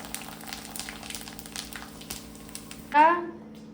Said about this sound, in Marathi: आता कुरड्या तळत आहे